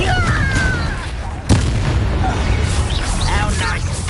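A Confringo blasting-curse explosion in the video game Hogwarts Legacy: one sharp booming burst lands mid-clip over a dense, continuous game soundscape of music and effects.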